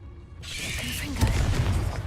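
A Confringo blasting curse goes off in a video game, a whooshing cast followed by a booming burst with a low rumble, moderately loud and brief.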